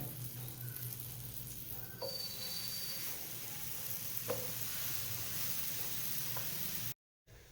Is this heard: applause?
no